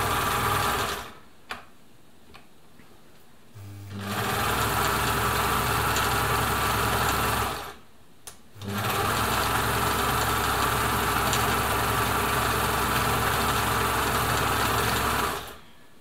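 A classic Husqvarna Viking Automatic 21e sewing machine runs a satin stitch, its steady motor whir sustained in two long, loud bursts separated by short pauses, with no voices.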